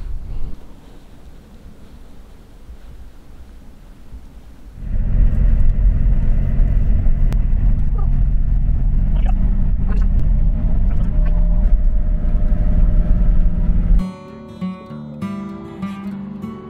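A car heads off to the next trail on a USA road trip; a quiet stretch gives way to a loud, steady engine and road rumble from inside, then the roar drops away and tonal sounds take over near the end.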